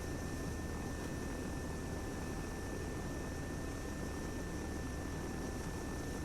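A helicopter flies in the video game ARMA 3, giving a steady, dense rotor and engine roar that holds constant throughout, heard from inside the cabin without any talk.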